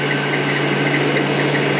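A rotoverter motor spins a wheel at about 1000 RPM, giving off a steady, even mechanical hum with a constant low drone and no break in pitch or loudness.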